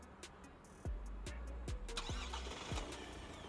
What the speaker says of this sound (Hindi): ये आपका इंजन ऑन हो जाएगा।